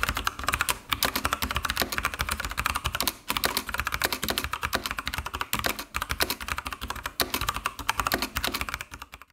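Rapid, steady typing on a Red Square Black Ice TKL mechanical keyboard, dense continuous key clicks with brief pauses, close and clear with no talking.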